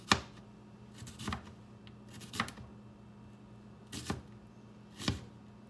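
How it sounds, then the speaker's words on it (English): A knife thinly slicing an onion on a cutting board, five or six soft, separated cuts spaced about a second apart, quiet and close. "Then I cut the onion in half and thinly slice those as well."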